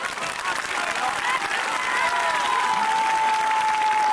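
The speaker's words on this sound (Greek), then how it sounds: "Θερμό χειροκρότημα." Warm, sustained applause from a large crowd at an outdoor political rally in Athens against the Schengen treaty, steady and dense throughout with a faint tone and some voices mixed in.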